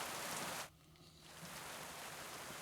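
Steady hiss of rain in Kingdom Come Deliverance 2, a dense broadband wash that drops out abruptly for a moment before the downpour resumes at a slightly lower, even level.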